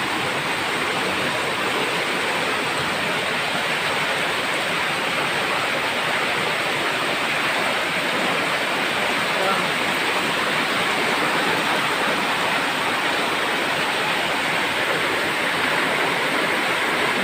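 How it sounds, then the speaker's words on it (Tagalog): Very heavy rain pours down during Typhoon Basyang in a flooding home, a loud, steady, dense roar of water that holds constant without a break. "Kusog pagid kaayo ang ulan."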